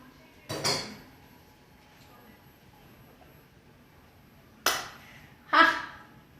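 A spoon stirs salted, spiced buttermilk in a vessel, giving three sharp, isolated clinks against the container: one early, then two close together near the end, with near silence between them.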